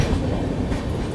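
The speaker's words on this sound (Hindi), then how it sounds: "सेवाग्राम कर्व पे क्रॉसिंग भी मिल रही है किसी ट्रेन के साथ" Kerala Express, New Delhi to Trivandrum, passing another train at the Sevagram curve: a loud, dense, steady rumble of rolling wheels and carriages, close by, with no gaps.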